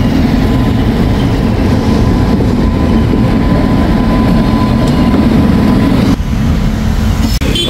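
A train rolls loud and close through a station in Kerala, a heavy continuous rumble with rail clatter that cuts off abruptly near the end, with no talk.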